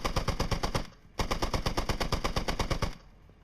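Machine gun fire in the Squad video game comes in two rapid, loud bursts of evenly spaced shots, split by a brief pause, with no speech.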